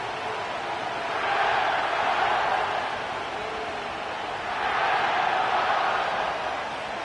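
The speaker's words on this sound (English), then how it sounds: "The crowd is definitely ready." Stadium crowd cheering at SoFi Stadium in Inglewood in an EA Sports NFL football game, a steady broad roar that swells twice into louder cheering bursts, with no talk over it.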